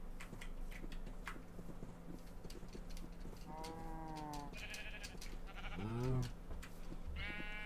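Blocky sheep in a Minecraft-style video game bleat in a few short, clear cries near the end, heard over a steady game background with no talking.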